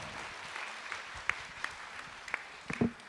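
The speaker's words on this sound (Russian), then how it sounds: "Тогда аплодисменты." A small seminar audience gives scattered, faint applause after a talk on client negotiation, a few soft claps spread out sparsely against a quiet room.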